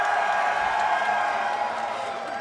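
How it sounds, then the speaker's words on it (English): An audience at a Victorian parlour game championship cheers loudly, a dense sustained wash of voices and whoops that tapers slightly toward the end. "please cheer loudly now"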